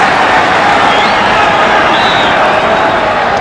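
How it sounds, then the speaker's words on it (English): A dense, steady roar of applause and crowd noise from football stands at Everton versus Ipswich in the 1975–76 season, loud and continuous with no pauses. "But applause for the new boy."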